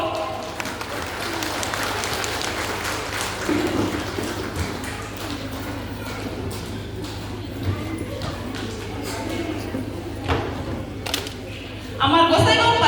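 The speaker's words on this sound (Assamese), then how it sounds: "সকলোৱে হাত চাপৰি দিব" At an International Women's Day meeting, a seated audience claps in a dense, steady patter that continues throughout and swells louder at the very end, with some talk mixed in.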